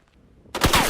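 Machine gun fire from the WWII series The Pacific, set at the Peleliu airfield battle, erupts suddenly as a loud, dense burst of rapid shots after a brief near-silence.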